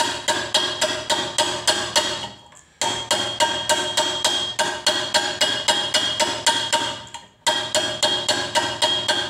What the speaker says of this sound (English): this will be the last slap with the hammer